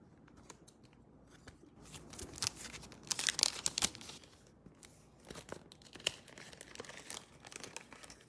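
Ruler stickers peel off a sheet for a Westalee Sashlee quilting template, giving close, quiet crinkles and tearing rustles in irregular bursts, with no speech.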